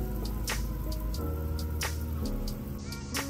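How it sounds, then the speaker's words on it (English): Water draining out of a garden hose line, faint dripping and squishy trickling with a few sharp drops over a low steady hum, no talking. "Drain any water out of the line."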